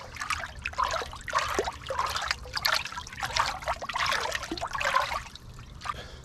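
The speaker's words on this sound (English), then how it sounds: "Give it a quick stir." Liquid kelp and fish emulsion are stirred into a container of water, producing continuous sloshing, trickling and swirling water sounds in uneven surges, close and moderately loud with no talking.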